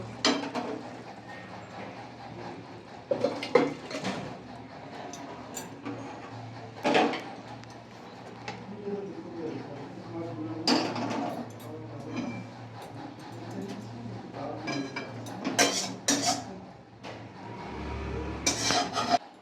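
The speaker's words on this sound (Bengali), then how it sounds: "এবার নামিয়ে নেব, গ্যাসটা বন্ধ করে দেবো, নামিয়ে নেব" A pot of bata fish curry is lifted off a gas stove, with scattered metallic clanks and scrapes of cookware at close range, irregular and moderately loud, plus a brief low rumble near the end.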